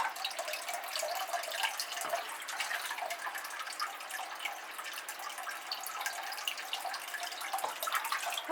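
Water poured from a green bucket onto orchids in terracotta pots splashes in a steady, close hiss with a soft trickle throughout, no voices.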